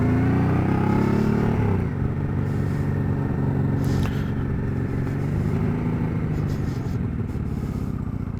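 A motorcycle engine on a first test ride, revving loudly up close at the start, then settling into a steady, rough running drone with some mechanical clatter.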